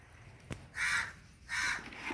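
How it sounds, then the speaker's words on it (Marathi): Two loud, harsh crow caws about half a second apart, close by, following a brief click, with no talking. "कावळा कोण पाहुणे येणार आहे कावळच असते सगळ्या घरावरून सगळ्या पत्र्यावरून सगळ्या गॅलरीत ओरडते"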